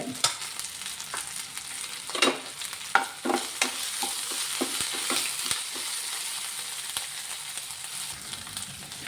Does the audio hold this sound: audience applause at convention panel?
no